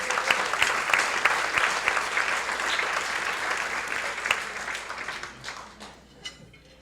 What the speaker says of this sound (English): Let's give a round of applause for all of our sponsors.